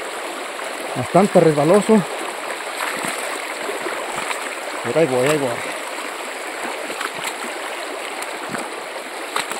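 A small river runs over slippery rocks, a steady rushing wash of water heard throughout while someone speaks briefly over it.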